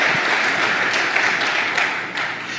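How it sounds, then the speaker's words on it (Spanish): A church congregation claps together during worship, a steady, dense roar of many hands that stays loud throughout and tapers slightly toward the end, with no voice rising above it. "Dale palmas al Señor, adora al Señor en estos momentos."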